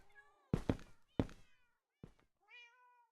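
Cats in the Minecraft GTNH modpack meow several times, clear and close, with sharp thunks mixed in between the cries and a final drawn-out meow.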